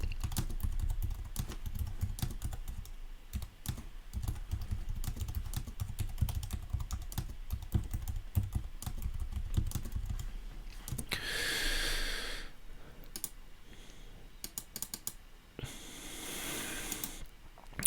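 Rapid, close clicking of typing on a computer keyboard runs steadily for about ten seconds, followed by a few scattered keystrokes and soft breathy noise bursts.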